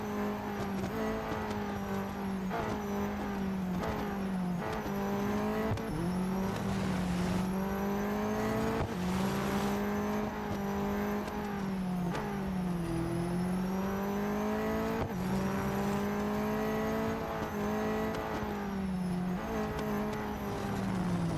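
Race cars in Real Racing 3 roar through a multi-lap mobile racing game, a loud continuous engine drone rising and dipping with gear shifts and revs, with no one talking over it.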